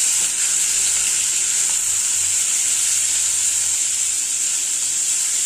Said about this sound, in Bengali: দিয়ে আমি এখন মশলাটা একটু কষাবো এর সাথে।